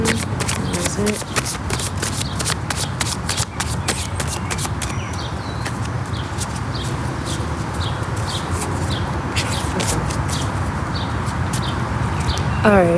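Tarot cards from several decks are shuffled in rapid, steady riffling bursts for the whole stretch, loud and close, with no talking.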